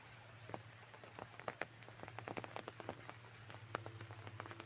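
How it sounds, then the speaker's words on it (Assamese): Rain falling outside, with faint scattered drips and taps landing irregularly on surfaces over a low steady hum, quiet and slightly distant. "পুৰা বৰষুণ দি আছে"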